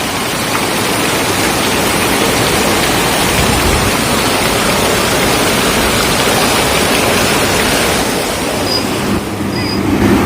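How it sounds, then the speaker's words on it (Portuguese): Heavy rain floods a street in Juazeiro do Norte, Brazil, a loud, constant roar of pouring rain and rushing floodwater with no break. "Chuva é forte."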